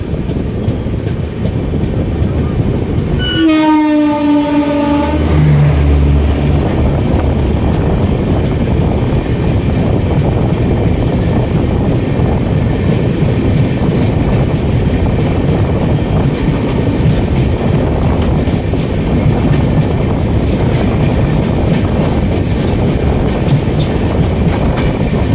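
A special passenger train bound for Patna, from Shakur Basti, passes close by on the railway. A loud horn blast comes near the start, followed by a heavy, continuous rumble and wheel clatter throughout.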